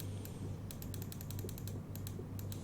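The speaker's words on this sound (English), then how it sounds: "with wrench in my hand, I can now tilt upwards, downwards, and rotate that thing" In the Stationeers video game, a wrench rotates a solar panel, making a rapid series of ratcheting mechanical clicks over a low steady hum.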